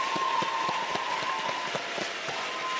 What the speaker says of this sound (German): Noch mal einen großen Applaus für die Finalisten hier einmal